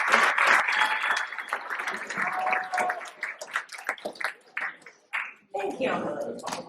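Audience applause at a high school senior recognition day ceremony, a dense crowd clapping steadily and loudly that thins toward the end, with voices mixed in.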